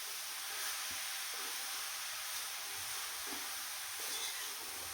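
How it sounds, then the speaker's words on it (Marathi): Beetroot frying in ghee in a kadhai for halwa, a faint, steady low sizzle with occasional soft stirring taps, heard alone without talk. "ह्याला तुपातच आपल्याला एकदम छान परतून घ्यायचं"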